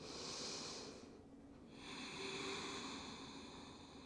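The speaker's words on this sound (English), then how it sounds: "Taking a couple breaths here." Slow, steady breaths drawn and released by a person holding a forward-folding yoga pose, hips sent back and arms reaching forward, with a breathy exhale followed by a soft inhale, close and fairly quiet with no talk.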